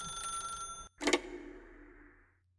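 A telephone rings in The Stanley Parable: Ultra Deluxe, a bright bell-like ring that breaks off, then one sharp ring that decays away to quiet.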